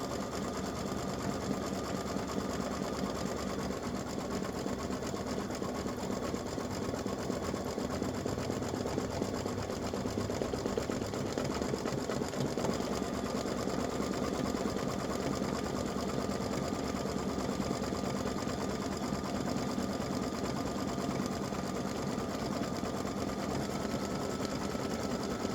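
Embroidery machine stitching a dreidel applique design, heard as a steady, continuous mechanical whir and rapid needle chatter running without a break at close range.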